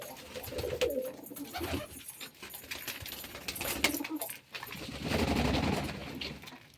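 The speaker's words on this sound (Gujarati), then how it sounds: "મિત્રો મને અટાણ મારી રાઈટ પડે પણ આપણા કબૂતર અટાણે નાય છે" Domestic pigeons coo in a loft, a steady low murmur of several birds with flutters and scuffs running throughout, close and moderately loud with no talking.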